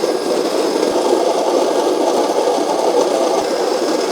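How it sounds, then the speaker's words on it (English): A Baratza Encore conical burr coffee grinder running at its coarse setting of 40, giving a steady, moderately loud whirring grind with a faint rattle, constant throughout with no voices. "Let's go 40 and turn it on."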